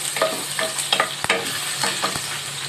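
Vegetables being sautéed in a pan sizzle steadily while a utensil stirs and scrapes in quick repeated strokes, close up and without talking.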